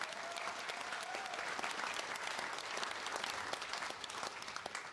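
A crowd at the World Bowls Champion of Champions finals day gives a sustained, even round of applause, a dense patter of many hands heard from a moderate distance.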